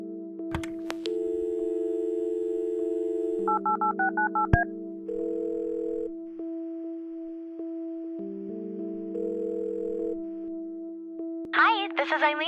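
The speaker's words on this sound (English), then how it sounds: "Let's use the phone to talk with Eileen first then." Phone dialing in the Kathy Rain adventure game, a run of short keypad tones followed by a steady ringing tone, clear over soft background music, ending with a brief higher chirp.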